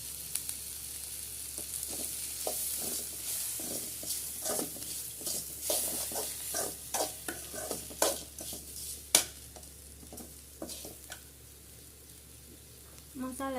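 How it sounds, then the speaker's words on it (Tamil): Masala of chilli powder, coriander powder, sambar powder, turmeric and rock salt sizzles in oil while a spoon scrapes and stirs the pan in irregular knocks and clinks. "மசாலா எண்ணெயில் வதக்கிட்டு"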